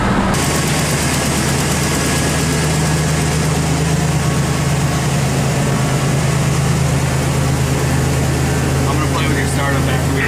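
A turbocharged 3.9 Dodge Dakota engine on a dyno catches and settles into a loud, steady idle that drones on close up, with a voice talking over it.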